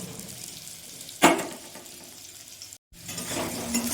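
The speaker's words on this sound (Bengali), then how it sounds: "আলুগুলো আমি ভেজে নেব।" Potatoes with a little turmeric and salt fry in oil, giving a soft, steady sizzle with one sharp splashy burst and a brief drop to silence partway through.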